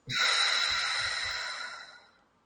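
One long breath let out after being held, a steady airy exhale close to the microphone that fades away over about two seconds.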